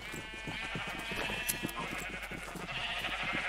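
Video game sheep bleat repeatedly in a dense, overlapping chorus of several animals, close and continuous over a steady background hum.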